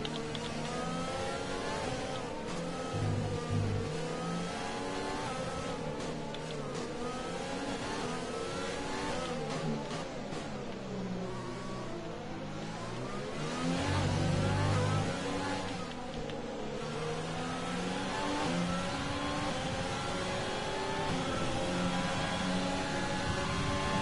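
Formula 1 car engine in the F1 2020 video game revving steadily through a race at the Vietnam Grand Prix, sustained loud whine with shifting pitch as the car accelerates and brakes through turns, with occasional other engine noise.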